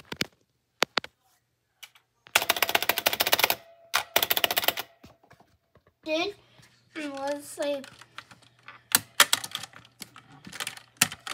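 Bursts of hollow, clacky typing on a Redragon mechanical keyboard with tissue padding come in quick flurries, broken by pauses, with a voice and brief talk mixed in between.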